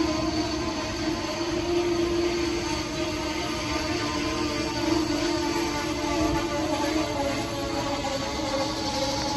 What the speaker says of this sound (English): Track 4 is the New Jersey Transit 122 outbound train to Trenton